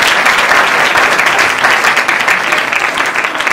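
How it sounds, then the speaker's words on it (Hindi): Audience applause fills a church Christmas celebration, a dense, steady wash of many hands clapping at close range, loud and sustained throughout with no pauses. "मैं चाहूँगा कि इन दोनों के लिए मैं एक ताली बजाऊँ।"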